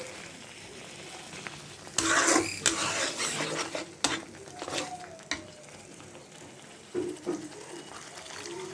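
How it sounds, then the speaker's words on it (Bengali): Water poured into a pan of frying mustard hilsa sets off a loud hiss and sputter at about 2 seconds, then scraping and bubbling that fades, with a smaller burst near 7 seconds; no talking. "আর একটু পানি দিয়ে দিচ্ছি"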